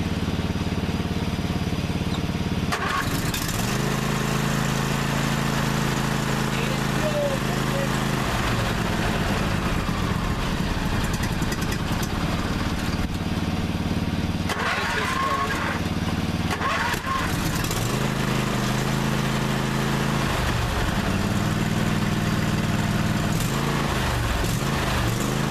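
A small engine, the smallest of a group of machines, cranks and catches, then runs and idles with a steady low rumble that swells and dips several times across the clip.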